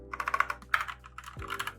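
Fantech Atom 96 v2 keyboard with blue clicky switches typed on at close range, giving a quick run of sharp, bright clicks in uneven bursts, clear and isolated with no talk over it.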